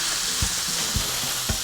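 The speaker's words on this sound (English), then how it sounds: "you want to hear it sizzling, but you don't want it to be super loud" Pork chops sizzle in oil in a pan over medium-low heat, a steady soft crackling hiss with a few faint low knocks of the meat or utensil against the pan, no talking.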